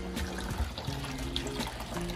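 Water flows steadily through a backyard DIY pond built from connected refrigerator tubs, a continuous close trickle and pour that runs alone for a couple of seconds.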